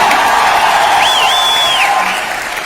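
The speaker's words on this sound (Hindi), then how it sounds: "एक बार जोरदार तालियां" Loud audience applause fills a rank celebration event hall in Delhi, a dense steady clatter of clapping with a whoop rising above it before fading slightly at the end.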